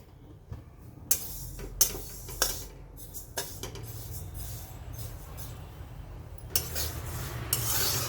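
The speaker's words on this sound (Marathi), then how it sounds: "आपण तीळ भाजून घेणार आहे" Sesame seeds dry-roasting in a pan while being stirred, with a steady rasping rub and a faint sizzle, broken by several sharp scraping strokes of the spatula against the metal, close and moderately loud, with no talking.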